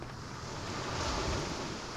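Beach surf and wind in the survival video game The Forest make a soft, steady wash of waves and wind noise, quiet and continuous with no voices.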